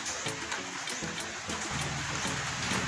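Steady, dense rain pouring down, a constant hiss with scattered patters and drips, loud and close, no voices.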